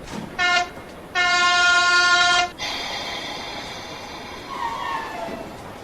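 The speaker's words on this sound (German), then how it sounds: "Achtung, auf Gleis 1 fährt ein Zug ab." Model railway train in N scale 1:160 departing from a platform: two loud sustained horn blasts, a short one then a long one, followed by a steady rolling rumble and fading rail noise.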